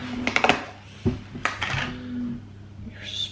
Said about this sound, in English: your spoon is clattered